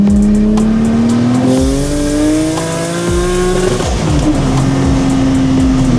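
Tuned 1000 hp BMW M5 accelerating hard, a loud, close engine roar climbing in pitch through gear changes with a brief tire squeal, continuous for several seconds.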